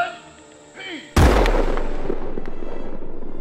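Ceremonial cannon at Guilford Battleground fires one huge, sudden boom that rolls and echoes away for seconds, following a shouted voice and a quiet lead-in.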